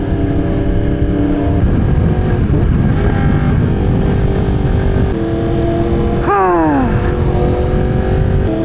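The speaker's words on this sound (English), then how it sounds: "I love the sound of this bike." Motorcycle engine in Los Angeles commuter traffic, running steadily close by with a loud sustained drone, then a sharp rising rev about two-thirds through before settling back.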